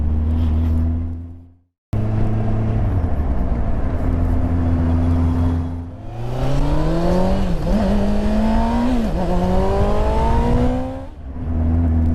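A 2018 Yamaha Tracer 900 motorcycle, the MT-09-based three-cylinder tourer, rides past with a loud, close engine note that drops out briefly, then climbs through rising revs before settling back to a steady drone.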